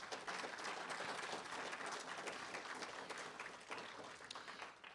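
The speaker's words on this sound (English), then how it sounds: "Could we give them a big round of applause?" Steady, faint crowd applause for refugee volunteers who prepared a lunch, continuous clapping from a distant audience with no break.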